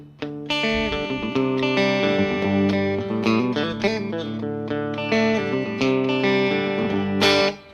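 Electric guitar played with the middle pickup selected, a sustained chordal tone with effects-unit shimmer and slight drive, loud and continuous with a brighter strum near the end.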